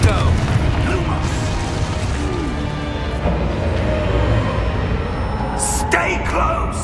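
A Confringo blasting spell is cast in Hogwarts Legacy, with sharp bursts and cracks near the end over a busy bed of game ambience.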